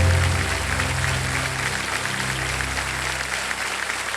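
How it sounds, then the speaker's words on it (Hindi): A studio audience on the set of the quiz show Kaun Banega Crorepati applauds steadily, dense clapping sustained throughout at an even, loud level. "ताली बज जाए सबके लिए।"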